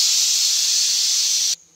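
Pressure cooker whistle releasing steam while sambar cooks: a loud, steady, close hiss lasting about a second and a half, then cutting off abruptly.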